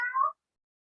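A single short meow, made by a human voice imitating a cat, clear and close, then silence.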